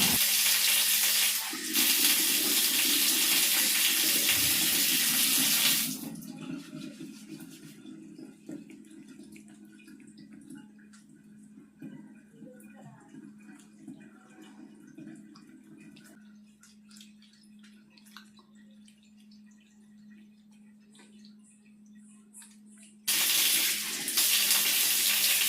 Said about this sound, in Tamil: நல்லா ஸ்க்ரப் பண்ணி சூப்பராக ஒரு ஃபேஸ் வாஷ் பண்ணிவிட்டு வந்துட்டேங்க.